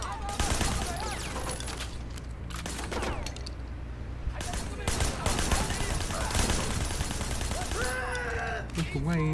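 Repeated loud volleys of gunshots from a firearm in Sleeping Dogs, Year of the Snake, crack close and fast in clustered bursts. Game sounds and a voice come and go between the shots.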